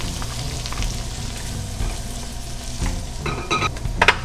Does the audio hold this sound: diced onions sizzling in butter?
yes